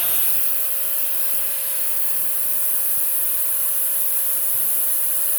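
A Filter Queen Majestic 360 vacuum cleaner runs during a suction test, a steady loud whine with a constant high tone and a few faint bumps, no voices.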